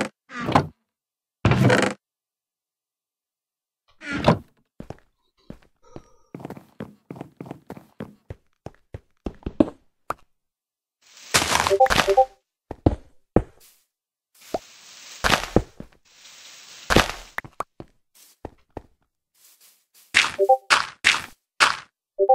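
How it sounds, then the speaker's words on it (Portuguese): Pickaxe breaking a misplaced block in the Minecraft survival game, a series of short, crisp digital knocks and thuds scattered irregularly, some in quick runs, separated by silence. "Vou ter que pegar aqui uma picareta agora. Pra remover ali um que eu coloquei errado."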